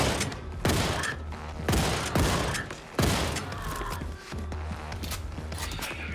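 Rapid bursts of weapon fire from Wolfenstein II: The New Colossus, several loud volleys cracking out in quick succession with short pauses between, layered over a steady low game rumble and mechanical clanks.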